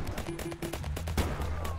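Mortar fire in the military video game Operation Polygon: a rapid cluster of sharp, punchy reports and booming impacts, fairly close, in quick succession over about two seconds.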